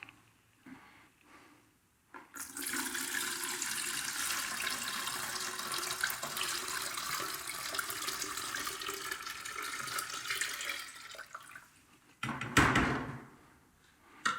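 Tap water runs steadily for about ten seconds while a strainer is rinsed out under it, ending with a brief clatter.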